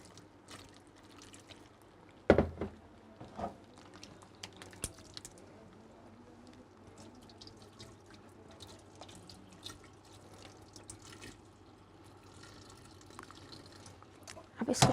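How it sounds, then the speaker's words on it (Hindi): Cold water poured and splashing over boiled potatoes in a kitchen, faint trickles and drips with a sharper splash early on, quiet throughout. "इसके अंदर हम ठंडा पानी ऐड करेंगे।"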